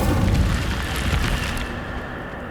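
The Incendio fire spell is cast in Hogwarts Legacy, giving a sustained booming, roaring burst of flame that stays loud and dense for a couple of seconds before tapering slightly.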